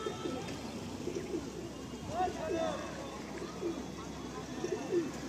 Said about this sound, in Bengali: আসুন আমরা পায়রাগুলো রিলিজ করে দিই একের পর এক